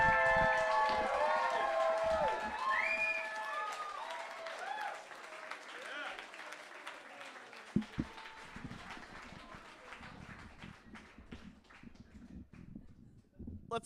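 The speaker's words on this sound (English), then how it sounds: "Let's keep that round of applause going for Johnny McRae." Audience applause at a Canadian individual poetry slam for poet Johnny McRae, a broad wash of clapping with whoops and voices over it, loud at first and slowly thinning out as the crowd noise carries on.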